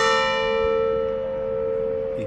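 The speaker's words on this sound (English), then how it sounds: "that bell is loud" A loud church bell in Lisbon strikes once close by, its deep, ringing tone holding and slowly fading with a rich shimmer of overtones.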